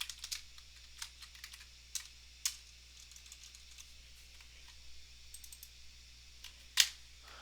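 Sparse, quiet computer-keyboard typing, scattered individual key clicks and a few sharper taps over a low steady hum, with no speech.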